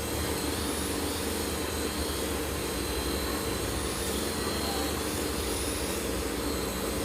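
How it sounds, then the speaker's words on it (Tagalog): Steady, loud engine roar of an airplane or helicopter passing overhead, a continuous broadband drone with no breaks across the whole stretch and no talking. "Hulihin niyo yung aeroplano o helicopter."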